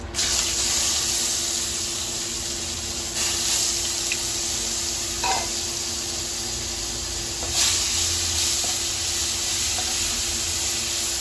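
Onion paste added to hot oil already holding cumin seeds and bay leaves, giving a steady hissing sizzle that swells briefly a few times, near and alone.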